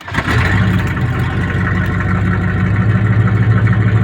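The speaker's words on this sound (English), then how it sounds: "the exhaust pipe is still broken, so it's going to be real loud" A 1984 Chevy big block V8 rumbles loudly and roughly through a broken exhaust pipe, holding a steady idle with a deep, raw roar and no talking.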